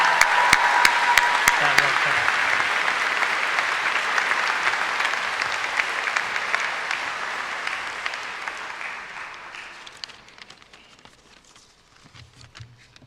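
Sustained applause from a large audience fills a university graduation ceremony hall, dense clapping that holds steady for several seconds before gradually thinning and fading out, with a little crowd murmur near the end.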